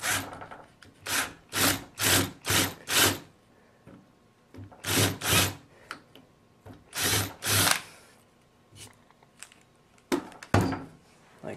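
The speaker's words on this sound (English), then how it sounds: "Remember to only drill about halfway down into that hole." A drill bites halfway into a plastic cap to seat a gimbal nut, coming in a series of short rasping bursts with pauses, then a few scattered final grinds, close and fairly quiet.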